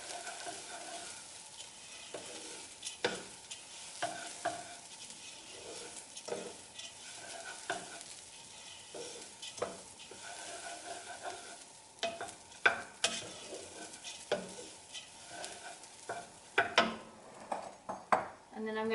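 Onion and spices frying in a pan for red lentil dhal, with repeated scraping stirs and clinks of a utensil over a steady soft sizzle, close and moderately loud.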